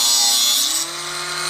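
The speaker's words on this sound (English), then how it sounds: "So angle grinder, I've cut that, and now the last one." An angle grinder cuts through threaded rod during a balcony roof build, a loud, steady high-pitched whine with a slight drop in pitch partway through as the disc bites.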